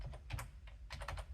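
Quiet typing on a computer keyboard, a few short bursts of soft key clicks separated by brief pauses, close by and with no voices.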